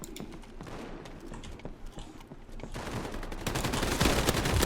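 Rapid automatic gunfire in the shooter game Battalion 1944, a dense continuous fusillade that grows louder toward the end, with no speech over it.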